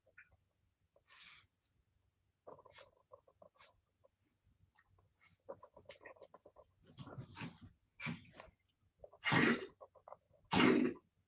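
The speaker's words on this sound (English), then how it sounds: "Can y'all hear her coughing?" An older woman coughs and clears her throat in a quiet room, a handful of short harsh bursts growing louder toward the end, with scattered faint rustles between them.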